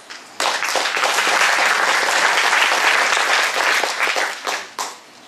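A crowd at a Slovenian awards festival breaks into sustained, loud applause that holds steady for several seconds before tapering off with a brief final burst.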